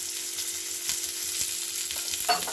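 Garlic and onion frying in a pan at home, a continuous close sizzle and crackle with light stirring, no voices.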